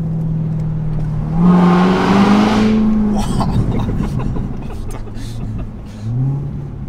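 A Corvette C7 ZR1's 765-horsepower engine revs up and accelerates hard, a loud rising roar that climbs in pitch, then settles into a steady drone with a brief burst near the end.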